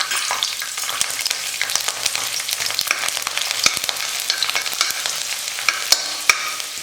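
Garlic cloves crackle and spit in hot oil alongside popping mustard seeds and fenugreek for a tamarind kuzhambu, a dense, steady sizzle with sharp little pops scattered throughout, close and alone.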